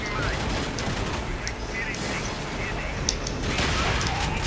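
Shotgun and other gunfire in the video game Dark Sector, dense bursts of shots over a busy, noisy game soundscape, with a voice talking over it.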